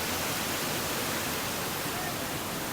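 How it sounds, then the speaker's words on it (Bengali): Cold water sprays down like rain in a botanical garden in Penang, Malaysia, a steady, dense hiss that stays even and close throughout without pause. "সাইড থেকে অনেকটা বৃষ্টির মতন সিটে সিটে পানি আসছে"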